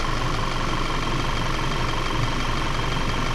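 A 2014 VW Tiguan engine runs at a steady raised idle of about 2,000 RPM during a coolant flush, a close, constant hum and rumble with no variation and no talking.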